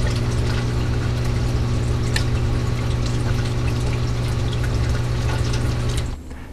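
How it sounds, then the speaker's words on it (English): Steady water churn and pump hum from an aquarium sump, with a return pump and protein skimmers running and a JBJ Arctica water chiller cycling, a constant close-miked drone that drops slightly near the end. "We've inserted a microphone into the sump area so you can hear the ambient noise coming from the return pump and skimmers."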